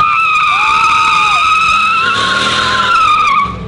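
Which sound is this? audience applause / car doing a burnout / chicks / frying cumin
car doing a burnout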